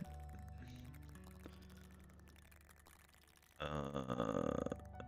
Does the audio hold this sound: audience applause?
no